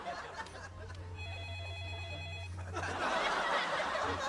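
A telephone rings in a comedy sketch, its warbling electronic trill sounding steadily for about a second and a half over a low hum, followed by louder background noise.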